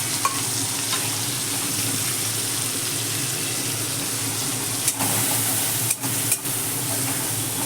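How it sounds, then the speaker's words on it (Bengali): Ground paste of cumin, white mustard and nigella frying in a wok, a loud continuous sizzle with a watery hiss and a few brief clatters near the end. "মশলাটা দিয়ে আমি কষতে থাকবো"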